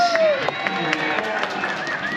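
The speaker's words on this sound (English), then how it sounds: "Feel free to cheer and applaud." Audience at a draft-horse show in Tennessee cheers and applauds, a steady wash of crowd noise with shouts and whistles rising over it, loud and close.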